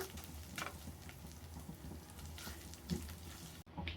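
Chopped garlic and ginger fry in a pan with a soft, continuous crackle and sizzle. The faint popping stays steady throughout and is heard alone, with no talking.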